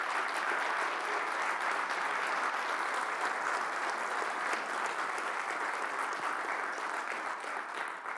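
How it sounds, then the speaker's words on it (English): Sustained audience applause for a premium sponsor, a local tech store, at the CPOSC tech conference: dense, steady clapping from a large crowd at even loudness throughout, with no talk over it. "Give them a huge round of applause, please."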